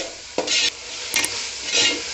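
Ginger garlic paste being stirred into drumsticks cooking in a pan, with a few distinct scraping stirs over a soft, steady sizzle, close and clear with no talking.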